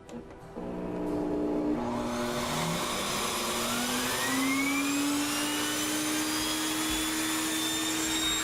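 Sirena water-filter vacuum cleaner with a Turbo Brush attachment switching on, its motor spinning up into a loud, steady whine and rising drone that holds continuously, with no talk over it.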